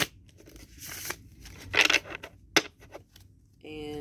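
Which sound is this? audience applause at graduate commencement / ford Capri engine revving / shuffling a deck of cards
shuffling a deck of cards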